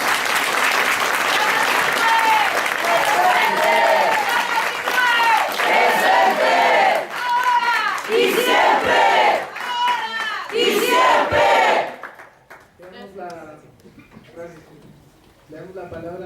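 Loud crowd applause with cheering and shouted chants at a political rally of young people and workers, sustained for about twelve seconds before dropping away as a voice begins speaking.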